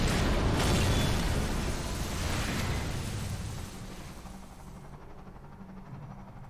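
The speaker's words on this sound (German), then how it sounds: "Was war denn das erste, was da so explodiert ist?" A heavy explosion in Half-Life 2 roars loudly at the start, then rumbles and fades over several seconds into quieter background with a small knock at the end.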